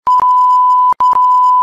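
A loud censor bleep masks swearing during a Minecraft Survival Games match: two long steady tones, each broken by brief stutters, with a short gap between them.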